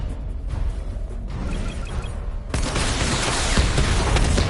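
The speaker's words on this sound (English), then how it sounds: "Missile barrage level 2 ready." Missile barrage firing in Batman: Arkham Knight, a dense roaring rush of launches and explosions that swells abruptly halfway through into a loud, continuous rumble.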